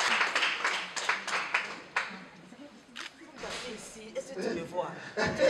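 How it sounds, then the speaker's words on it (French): Applause at a convention signing ceremony between RAFAA and Orange Bank: a crowd claps in quick, dense bursts at first, then the clapping thins into scattered hand claps against room noise. "Sous l'acclamation, s'il vous plaît."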